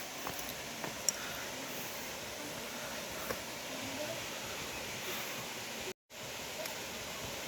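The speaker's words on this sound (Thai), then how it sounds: "เราจะเดินไปใกล้ๆน้ำตกกัน" Haew Suwat waterfall in Khao Yai, Thailand, pours with a constant, full roar of rushing water heard from nearby. The roar is broken only by a brief dropout near the end.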